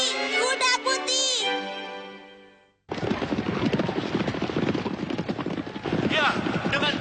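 Horse hooves galloping in an animated race, a fast dense clatter of hoofbeats with a whinny near the start, and a few later cries rising over the pounding rhythm.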